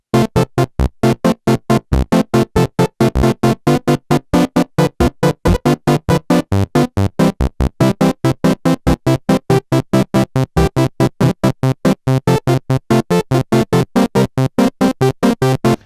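A three-oscillator synthesizer plays a rapid stream of short, evenly chopped notes with a rich harmonic tone, one voice an octave higher, loud and close for about sixteen seconds.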